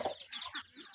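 A hen clucking briefly, close and fairly quiet, with a few short soft calls in under a second.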